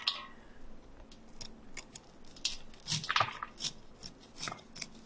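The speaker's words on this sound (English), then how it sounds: "we're trying to cut real close to the cob" A knife cuts kernels off an ear of corn close to the cob, giving quiet, irregular crunchy scraping strokes close by at low volume.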